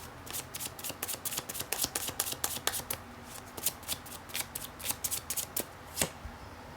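Tarot cards are shuffled by hand up close, a fast run of crisp riffling slaps and flicks in quick irregular bursts with no talking.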